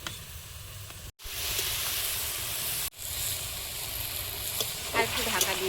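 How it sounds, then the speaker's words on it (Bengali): Fried shrimp goes into a hot pan of mixed leafy greens with a sudden loud sizzle, then continuous hissing and crackling with a brief cut midway. A faint voice is heard near the end. "চিংড়ি মাছ ভাজাটা দিয়ে দেবো।"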